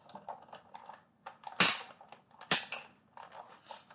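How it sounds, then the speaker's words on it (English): A Big Shot die-cutting machine feeds paper through its rollers, giving two sharp, loud cracks amid softer mechanical clicks and rustling close by, with no talk. "we're going to roll this through the big shot, and we have to do that 3 times"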